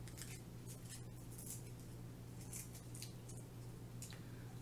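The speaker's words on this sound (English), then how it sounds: "So just take your time and cut it out neatly." Scissors snip steadily through paper while cutting out a butterfly stencil, a run of soft, close crunching cuts with no talking over a low steady hum.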